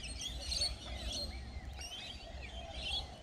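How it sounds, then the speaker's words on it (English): Small birds chirp and call outdoors in a park setting by a turtle pond, bright tweets repeating through a steady low background rumble. "Look at this bird."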